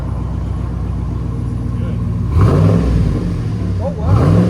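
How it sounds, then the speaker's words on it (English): Car exhaust fitted with an Exhaust Addicts prototype muffler, resonator removed, 5-inch tip, idling with a deep rumble, then two sharp loud revs in quick succession, close by, with people talking in the background. "We took the muffler off and replaced it with the Exhaust Addicts prototype."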